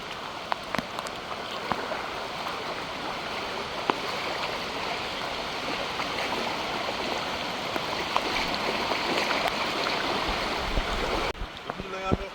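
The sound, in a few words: floodwater flowing over road after hurricane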